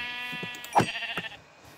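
A sheep in a survival video game gives a single short bleat near the middle, with a fainter bleat just before it, over a steady low electronic hum.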